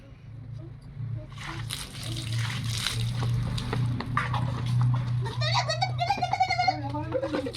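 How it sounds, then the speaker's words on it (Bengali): Items being washed in water during a Tulsi festival outing, with trickling and sloshing water splashes growing busier toward the end, heard close while people talk and someone speaks. "চলো জলে নিচ্ছি ধুয়ে নিই"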